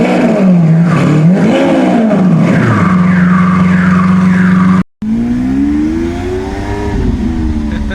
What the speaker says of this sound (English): Nothing beats that engine.